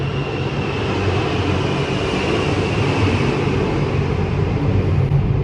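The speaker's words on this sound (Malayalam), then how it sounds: "അത് ഇവിടെ എപ്പോഴും ഇങ്ങനെ പ്ലെയിൻ്റെ ഒച്ചയൊക്കെ കേൾക്കാൻ പറ്റും" A low-flying airplane passes close overhead near HAL airport, giving a steady, loud, broad roar that fills the whole stretch without a break. No voices are heard over it.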